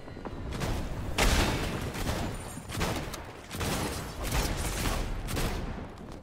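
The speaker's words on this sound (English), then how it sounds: "I think they're shooting at our AI." Fortnite gunfire crackles in a sustained fusillade of overlapping shots and booms, moderately faint, with several louder bursts across the stretch and no voices.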